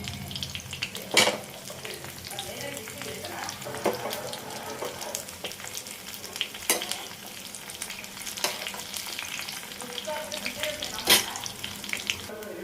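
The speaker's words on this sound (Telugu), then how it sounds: "తాలింపులు సరిపడా ఆవాలు శనగపప్పు మినప్పప్పు మొత్తం అన్నీ ఉన్నాయి వెల్లుల్లి ఎండుమిర్చి ఇలా విరిపి వేసుకోండి" Mustard seeds, chana dal, urad dal, garlic and broken dried red chillies fry in hot oil for a tamarind rasam tempering, giving a steady close sizzle with sharp crackles and pops, without talk.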